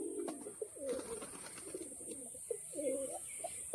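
Pet pigeons at a loft in Chakdaha, Balarampur coo in soft, rolling phrases, a few birds calling near and fairly quietly over faint background noise, with no clear talk.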